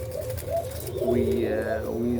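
Egyptian kishk pigeons coo in a loft, with repeated low, rolling calls overlapping one another close by over steady background noise.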